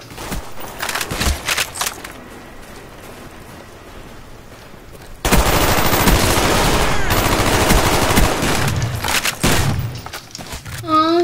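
Gunfire in Call of Duty Black Ops multiplayer: scattered shots give way to loud, sustained automatic bursts that rattle on for several seconds, with a voice heard in the mix.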